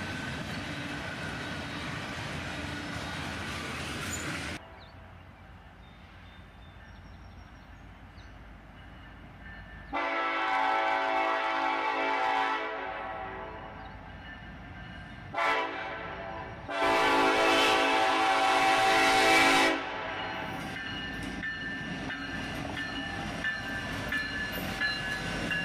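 A freight train carrying chassis system boxcars rolls by, a steady rumble broken by several loud, bright surges of wheel and car noise as cars pass close.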